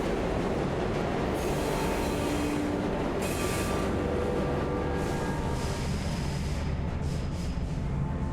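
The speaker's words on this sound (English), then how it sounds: "We have reached the end of the line where this train will terminate." A train in the video game Luna Abyss rolls into its terminus, with steady loud rumble of wheels on rails, intermittent metallic squeals and brake hiss building over several seconds as it slows.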